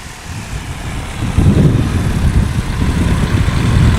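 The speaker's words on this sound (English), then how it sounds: "Jeff Abrams in the Piper for practice is leading the way" Piper light aircraft engine droning steadily at a STOL practice event, a continuous low rumble that grows louder partway through as the plane nears, with no talking.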